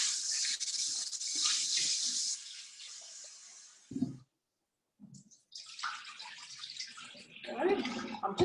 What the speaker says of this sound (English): rinsing them, washing them around with my hands, gently rubbing them together.